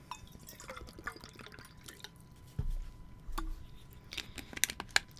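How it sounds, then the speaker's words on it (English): Water being poured into a cup, heard as soft drips and brief gurgling splashes with a couple of louder bursts of liquid, fairly close and quiet, with no speech. "I'm gonna pour more water in my cup"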